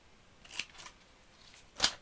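Scissors cut out paper craft pieces in a quiet room, producing a few short, crisp snips spaced apart, the last one loudest and nearest.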